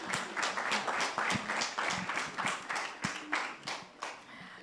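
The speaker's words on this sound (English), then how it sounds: "Please give her a round of applause" A small seminar audience gives a speaker a round of applause at a voter registration event, with sparse, distinct hand claps in a loose rhythm, fairly quiet and without talk.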